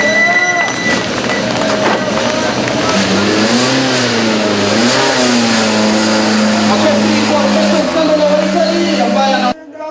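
A rally car's engine revs hard and rises in pitch as it pulls away from the start of the 2007 Safari Rally Kenya IRC event. The loud, sustained roar runs throughout, with a voice talking over it.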